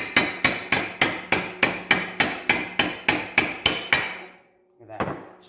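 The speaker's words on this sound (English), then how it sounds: "And then just hammer it out." A hammer repeatedly striking a punch to drive a pin out on a Polaris RZR 1000 XP, a dozen sharp evenly spaced metallic blows, close and loud, then a pause and one final softer knock.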